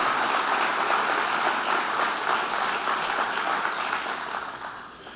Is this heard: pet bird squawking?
no